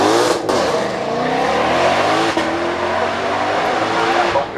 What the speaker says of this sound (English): There you can see the Evora heading up the hill, being given an awful lot of energy into that first right-hander, the Evora GT410